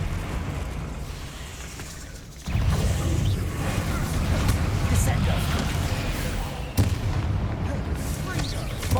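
Bombarda spell explosions in the Hogwarts Legacy video game, heavy booming blasts with a sharp impact near the middle and another late, under a person shouting spell names.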